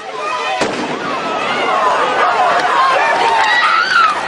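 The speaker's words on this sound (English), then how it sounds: "Here comes the hand grenade." A hand grenade bursts amid a violent filmed scene, a sharp crack followed by a rolling, crackling roar with shouting voices underneath.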